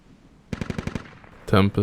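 Automatic gunfire in the military shooter game Squad comes as a quick burst of about six evenly spaced, sharp shots, followed by a short voice at the end.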